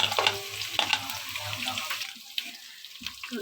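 Ginger garlic paste frying in a pan for a mixed vegetable curry, soft sizzling with intermittent stirring scrapes and clinks, moderately quiet and close, with a faint voice in the background at times.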